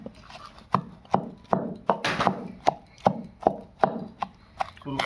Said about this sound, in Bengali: এখন ভালো করে এগুলো বড়িগুলো কুটে নেব, ধনে পাতা লঙ্কা দিয়ে কুটে নেব